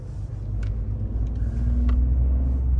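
Stock Ford F-150 Tremor truck with a 3.5 EcoBoost engine driving, a loud, steady low rumble of engine and road noise that swells slightly as it goes.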